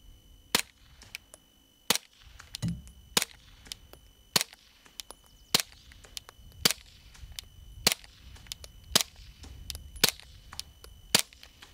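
A Glock 19 pistol fitted with an Obsidian 9 suppressor fires at a steel plate: about eleven sharp, clipped reports at a steady pace of roughly one per second, close and distinct over faint background noise.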